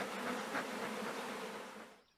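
Honeybees buzz around a hive in a dense, steady drone that stays loud and close before fading out at the end.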